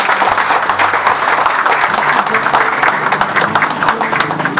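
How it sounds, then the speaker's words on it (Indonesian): Audience applause fills a 14th anniversary celebration for CSI Indonesia, a dense, steady wash of many hands clapping close and loud, sustained without a break. "Tepuk tangan dulu."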